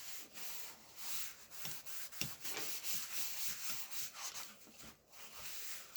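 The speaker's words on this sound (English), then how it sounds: "So I'm going to go ahead and burnish that down." Paper rubbed down onto a handmade album page with a burnishing tool, soft scratchy strokes repeating in an uneven rhythm, very quiet and close.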